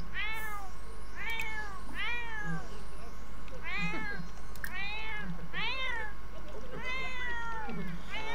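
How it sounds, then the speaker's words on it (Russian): A cat meows repeatedly and loudly close by, about eight insistent, evenly spaced cries over a constant low hum. "Кот, заткнись!"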